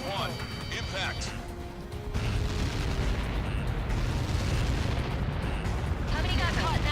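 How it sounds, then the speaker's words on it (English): Explosion impact in the combat flight game Ace Combat 7, a sustained loud rumbling blast that swells after a brief lull and holds steady, with game voices talking over it. "How many got caught in that explosion?"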